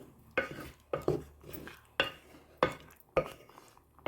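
A spoon stirs milk powder into okra curry in a pot, knocking and scraping against the metal in repeated close clinks every half second or so, with no talking.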